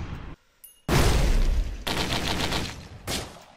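Gunfire in the video game Risk of Rain comes as loud, dense bursts of rapid shots, close and harsh, split by short gaps, with no talking.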